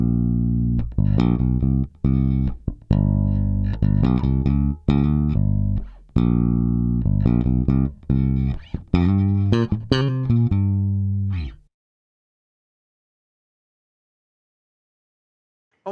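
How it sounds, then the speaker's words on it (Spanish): A clean electric bass with no effect plays a punchy riff for about twelve seconds. The notes are plucked and full, with firm low end, and then the sound stops into silence. "Vamos a escuchar el sonido limpio del bajo."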